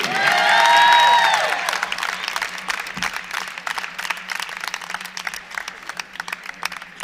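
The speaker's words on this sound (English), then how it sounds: "how about another round of applause for our 2018 seniors?" Audience applause fills a gymnastics arena at the EAGL Gymnastics Championships, a dense wash of clapping with cheering and whistles at the start that slowly thins but keeps going.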